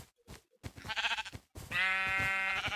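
Sheep in the video game Minecraft bleat in two separate wavering calls, the second longer and louder, heard close with nothing else over them.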